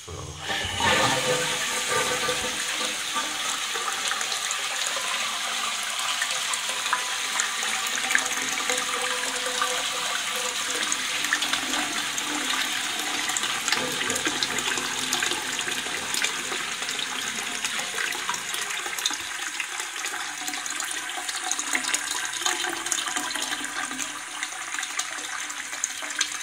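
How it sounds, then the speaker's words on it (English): A Twyfords Classic toilet with a Dudley turbo cistern in a pub washroom in Loughborough flushes with a loud, continuous rush and hiss of water that runs steadily for nearly half a minute as the cistern refills. "Cistern unit, Dudley turbo, so that explains a shit flush."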